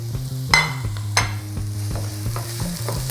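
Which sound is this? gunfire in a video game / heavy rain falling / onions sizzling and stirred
onions sizzling and stirred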